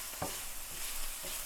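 Garlic sautéing in a pan for a quick Tamil-style chapati kurma, with a low steady sizzle and a couple of brief stirring scrapes, no voices.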